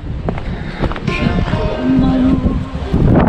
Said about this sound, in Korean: 오늘 바람이 많이 불어서 시원한 산입니다.